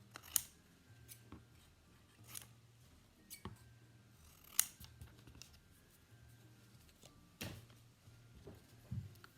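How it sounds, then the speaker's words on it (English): Large scissors cut through designer paper card in a quiet room, giving a series of crisp, close snips at irregular intervals, with soft handling rustles between them. "Using a large pair of scissors, I have the whole length of the blade"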